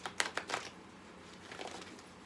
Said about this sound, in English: she shuffles the cards